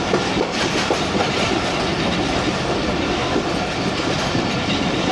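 Passenger express train moving slowly along the line, steady loud rumble of rail cars with rhythmic clickety-clack of wheels over rail joints, no voices.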